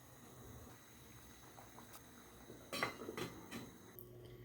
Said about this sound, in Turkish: Kapağını kapatıp 35 dakika kadar kaynatacağız.